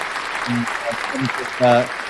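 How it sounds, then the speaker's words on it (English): Applause sound effect played during a live stream, a brief burst of crowd clapping mixed with a voice, swelling loudest near the end of the short clip. "I just want to give a big clap to Richard Hart's first video."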